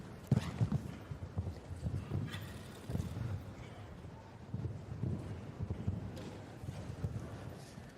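Hooves of Origi Vant Gezeven, a 10-year-old stallion by Thunder van der Soethoven, thud in irregular clusters across a show jumping arena at the Longines Christmas Cracker, moderately close with wind and faint talk underneath.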